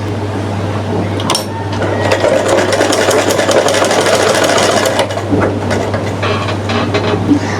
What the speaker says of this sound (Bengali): তো দেখেন এখন আমি খুব সহজে কিভাবে সেলাইটা দিয়ে নিই।